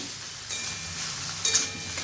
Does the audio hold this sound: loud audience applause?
no